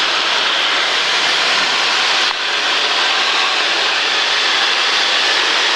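A Cessna 152 engine drones in a steady, loud roar with heavy wind noise in the cockpit as the light plane dives during aerobatic flight.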